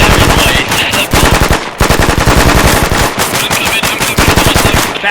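Loud, sustained automatic gunfire from a military simulator video game, rapid bursts firing almost without pause across the whole stretch, with one brief gap near the middle before the shooting resumes.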